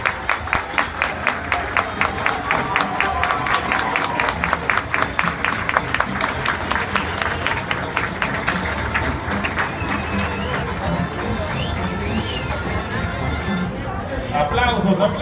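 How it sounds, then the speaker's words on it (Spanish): Crowd applause around a picadero arena at the Texcoco horse fair, a steady wash of clapping and cheering that continues with an announcer talking over it throughout. "Aplausos, aplausos."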